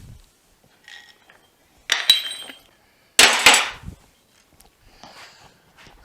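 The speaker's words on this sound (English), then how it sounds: "So here's my body hammer. That's the only thing that'll work on this steel." Two sharp, ringing blows of a body hammer on the steel box sides of a 1954 Fargo truck, close by, separated by quiet pauses with faint clinks between.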